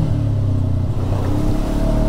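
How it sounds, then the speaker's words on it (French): A Segway Fugleman UT10 six-seat UTV engine running with its CVT transmission, a close, loud, steady low droning hum with harmonic tones and slight revving fluctuation, no talk over it. "Le moteur est pas trop bruyant"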